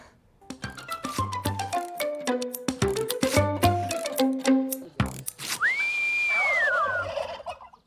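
A flock of turkeys gobbles loudly in rapid, overlapping rattling calls, followed by a rising and falling whistle-like call.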